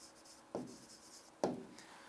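Marker or chalk writing a statement on a board, two short scratchy strokes about a second apart, faint and close in a quiet room.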